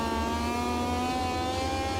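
A Moto2 racing motorcycle engine in a racing video game, a loud sustained high whine with steady harmonic tones, holding at high revs without breaks.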